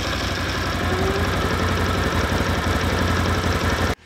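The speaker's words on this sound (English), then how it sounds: "The exhaust is a quiet rumbling at low RPMs that's not offensive for a long day's work." A 2024 Can-Am Outlander 1000R XT-P ATV engine idles close by with a steady, low, throbbing exhaust rumble that continues evenly before cutting off abruptly at the end.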